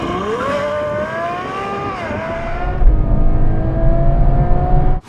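A sports car from a Ferrari 812 Superfast, Lamborghini Aventador SVJ or Porsche 911 Turbo S drag race is driven to warm its tyres. The loud, close engine drone rises and dips in pitch, swells, then cuts off abruptly.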